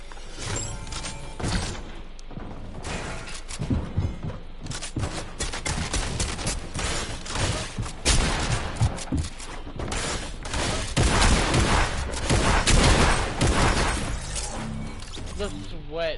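Dense, sustained bursts of video game gunfire during a live World Cup event, rapid shots and impacts layered continuously over the full span, loud and busy, with a player talking over the action.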